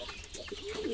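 Small racing pigeons at a loft coo in soft, low, continuous murmurs against a steady background hiss, the cooing swelling slightly toward the end.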